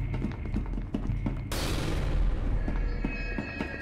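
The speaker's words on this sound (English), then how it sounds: "Flashbang!" A flashbang grenade goes off in SCP Secret Laboratory, a sudden bright burst that fills the mix and then leaves a lingering hiss under dense game noise and chatter.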